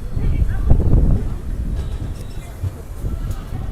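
A Nanded–Tirupati special train rolls into platform 3 at Renigunta Junction with a heavy low rumble and wind buffeting, loud and close, easing off slightly, with faint voices mixed in.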